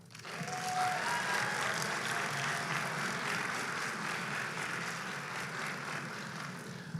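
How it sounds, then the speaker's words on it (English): A graduation audience at the 2025 Shabazz ceremony applauds, a broad, fairly faint wash of many hands clapping that swells in and holds steady for several seconds, heard from a distance in a large hall. "You all deserve a round of applause as well"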